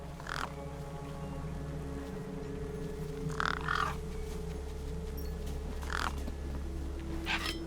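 Crows or similar gang birds cawing over a corpse propped against a rock in the video game Beyond A Steel Sky, three harsh calls spaced a few seconds apart over a steady low ambient hum.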